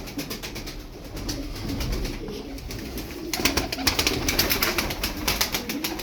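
Ankara tumbler pigeons cooing in a loft, soft repeated low coos close by over a steady background, with some brighter rustling or wing noise in the latter half.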